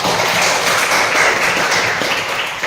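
A classroom of students claps together in sustained, dense applause, loud and close, with no voices over it.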